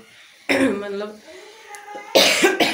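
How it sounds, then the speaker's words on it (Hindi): A woman coughs a few times in short bursts, close and fairly loud, with a quiet stretch between the first fit and the later ones, in a home setting while she is unwell. "खांसी तो है ही"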